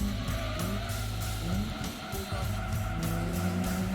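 Tires squeal and skid repeatedly over a droning engine as a car slides through corners in the racing video game Gran Turismo 2, loud and continuous.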